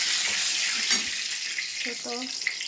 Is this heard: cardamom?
yes